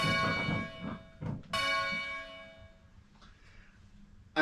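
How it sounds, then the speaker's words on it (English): A single church bell is rung up to stand on a bell-ringing simulator, giving one bright clanging strike with a long ringing decay and faint handling noise around it. "Okay, so we're going to now stand the bell."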